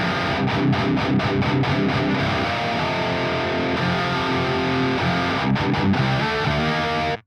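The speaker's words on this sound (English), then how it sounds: "the distortion dimed and the grind at 12 o'clock" Electric guitar played through a Boss DS-1 distortion pedal with the distortion at maximum and a Grind at twelve o'clock, a loud sustained saturated chord passage with rhythmic choppy strums at the start and near the end, played alone.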